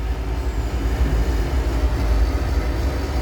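Trains roll past at a railway meet, a steady low rumble of wheels and cars that holds even and close for the whole stretch, with no voices.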